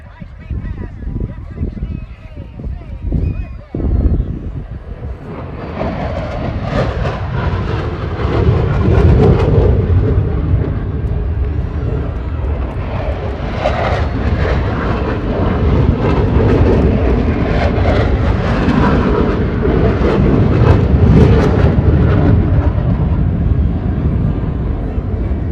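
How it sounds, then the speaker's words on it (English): U.S. Air Force Thunderbirds jets make a high-speed pass at the Chicago Air and Water Show, a loud, swelling roar that builds after a few seconds and holds as a sustained rumbling blast, with a commentator talking over it. "coming in fast for a high-speed pass"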